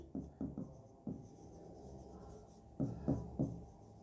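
Chalk or marker writing on a classroom board during a chemistry lesson, short scratchy strokes in small clusters with pauses between, fairly close, and a teacher's voice faintly in the background.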